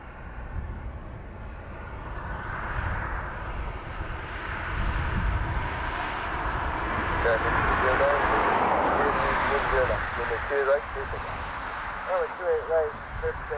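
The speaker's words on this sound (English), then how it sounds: "209 787-800 Dreamliner off to Chicago." An American Airlines Boeing 787 Dreamliner takes off from Dublin Airport, its broad jet roar swelling and staying steady at a distance while someone talks over it.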